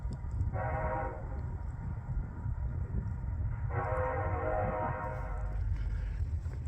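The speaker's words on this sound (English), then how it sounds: "You can really hear that train" A distant train horn sounds twice over a steady low rumble as the train passes at a distance near Willard, New Mexico.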